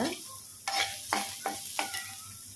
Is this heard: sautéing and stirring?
yes